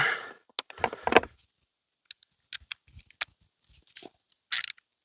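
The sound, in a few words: tightening small bolts on a car during an oil change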